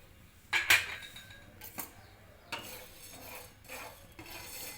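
Cumin seeds, with fenugreek, are dry-roasted in a pan and stirred, giving sparse close scrapes and light clinks of a spoon against metal, with quiet gaps between strokes.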